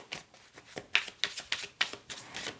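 Tarot cards shuffled by hand, a quick series of crisp riffling flicks in a steady rhythm, close and fairly faint, with no talk.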